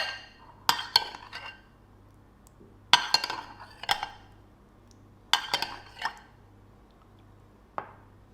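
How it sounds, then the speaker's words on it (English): A spoon bastes a slow-cooked pork shoulder with its runny sauce, giving three close bursts of metal clinks and scrapes against the pan with soft wet splashes, separated by quiet pauses. "grab a spoon, and we need to baste the meat with this sauce"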